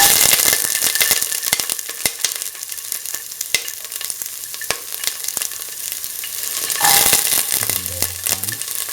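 Shallots fry in 10 ml of heated oil in a pan, giving a steady, bright sizzle with crackling pops throughout and a brief low clatter near the end.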